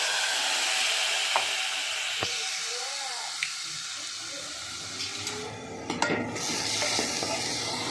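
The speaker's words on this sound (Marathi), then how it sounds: "किती छान फोडणी बसली बघा जिरे आणि मोहरीची" Cumin seeds, mustard seeds and curry leaves crackle in hot ghee for a kadhi tempering, a constant close sizzle with light spoon scrapes and a couple of soft clinks, no talking.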